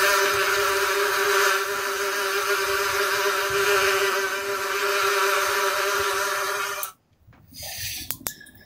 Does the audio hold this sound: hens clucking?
no